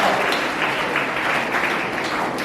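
Dense, even clapping from an audience at a candle lighting event fills the room, sustained and fairly loud without a break, with no clear speech on top.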